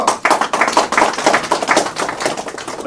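Dense, steady crowd applause from an audience at a Democratic Party political speech announcing a general election run in Jeonju, South Korea, sustained and fairly loud for about three seconds.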